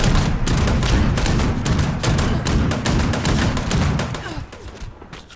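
Harpoon gun fire in Fallout 76, a dense run of heavy, rapid booming shots and thuds that fills the clip loudly before tapering off near the end.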